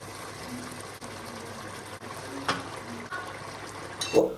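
Water is added to a pot of okra stew on the stove, a quiet, steady trickle and pour with a slight bump of the pot near the end, nearby and with no voices.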